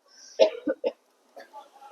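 A person coughs in a classroom-style lesson: three quick, close coughs in a burst, then a softer throat-clearing sound after a short pause.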